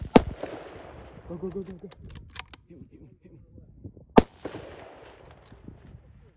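Two sharp rifle shots fired at hogs during a hunt, one at the start and another about four seconds later, both loud and close, with people talking quietly in between.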